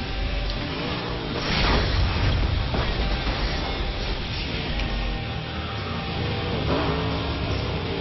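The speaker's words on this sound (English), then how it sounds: "Car takedown." Burnout Paradise car takedown: a steady, loud roar of a racing game car engine with rising revs and grinding, crunching swells, no talk, continuous throughout.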